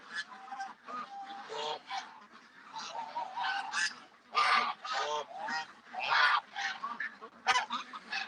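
Geese honking in the dark at a pond where ducks are fed, with a dog nearby, a dense, close run of loud repeated honks and squawks with no pauses.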